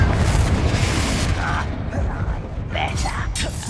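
A Confringo fire spell exploding in the video game Hogwarts Legacy, heard as a loud, sustained rumbling boom with crackling debris and some faint voice-like sounds mixed in.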